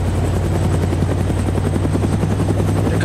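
Helicopter in the video game Arma II DayZ, its rotor thumping loud and close in a steady rapid chop with a constant engine whine, alone without talk.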